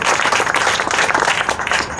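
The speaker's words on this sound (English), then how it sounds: "Let's give Davis a round of applause." Brief burst of audience applause at a downtown Baton Rouge groundbreaking ceremony, with dense, close clapping that stays loud and even for about two seconds.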